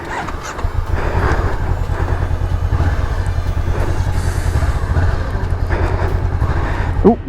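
A Honda CB500X with a Rally Raid Level 1 kit runs off-road with its throttle stuck on, a loud, continuous engine drone mixed with wind and rough-terrain rattle, steady throughout.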